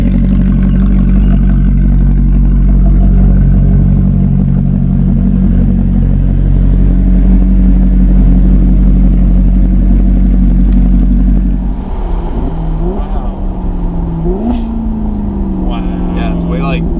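A straight-piped Maserati GranTurismo MC in sport mode rumbles loudly with a deep, steady exhaust drone, then drops off as revs rise and fall in short sweeps, with people talking over it.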